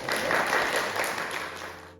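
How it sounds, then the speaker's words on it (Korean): Brief applause from a church congregation welcoming a guest preacher, a soft wash of clapping that fades out after a couple of seconds. "우리 박수로 초청드립니다"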